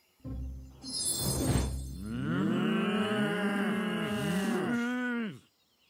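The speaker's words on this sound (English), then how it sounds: "No, these cows are my cows." Several long, low cow moos overlap and swell, loud and close, with a brief rustle before them and no talking.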